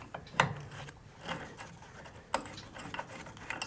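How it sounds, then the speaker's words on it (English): A 7/16 wrench loosens the nuts on a trailer taillight, making a few faint, close metallic clicks and ratchety ticks in short bursts against quiet background. "Now we use a 7/16 wrench, and we just loosen these guys."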